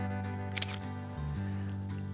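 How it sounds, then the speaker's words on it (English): A Leica camera shutter fires once: a single crisp mechanical click midway through, over a low steady background hum. "It's got a great shutter"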